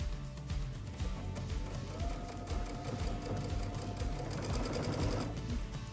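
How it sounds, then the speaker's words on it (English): Sewing machine stitching cording onto a lumbar puff pillow, a steady loud mechanical whir with rapid rhythmic needle clatter running continuously throughout, close and alone. "And now we sew."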